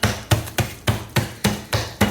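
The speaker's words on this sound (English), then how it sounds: "carefully, we're gonna hammer them into smaller pieces" Hazelnuts wrapped in cling wrap struck with a hammer, eight sharp thuds in a quick, steady rhythm, close and loud with nothing else heard.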